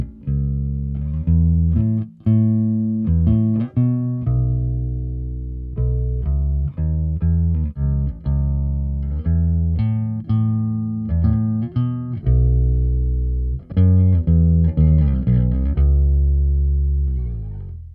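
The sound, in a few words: bass through 8x10 and 4x10 cabinets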